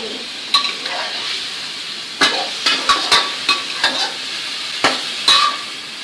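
Chilies are stir-fried with squid for a basil squid stir-fry. A steady sizzle in the pan sits under irregular, bright clacks and scrapes of the spatula against the metal, with no talking.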